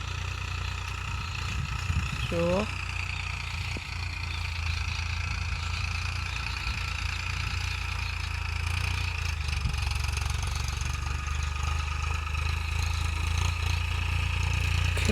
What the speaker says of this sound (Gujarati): ટ્રેક્ટર કામ કરી રહ્યું છે.